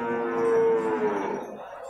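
Water buffalo low steadily at a livestock market in Purwakarta, one drawn-out, fairly loud bellow close by with crowd noise behind.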